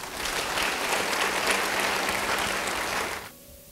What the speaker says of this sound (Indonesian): Yang setuju beri tepuk tangan.